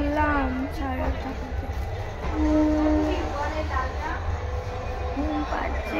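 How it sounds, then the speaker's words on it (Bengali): A train passes by, its steady rumble and wheel hum filling the background throughout while voices talk over it. "ওই যে ট্রেন যাচ্ছে"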